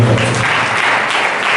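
Church congregation clapping together, a brief, steady burst of applause that is close and fairly loud, with a low voice trailing off at the very start.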